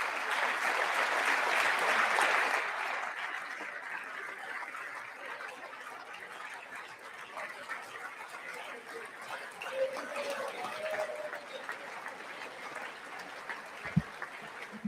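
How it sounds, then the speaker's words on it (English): A crowd applauding during a Trump speech about the Space Force, sustained clapping that swells at first and then settles into a thinner, lingering patter, heard from a distance. "So they're clapping for Space Force?"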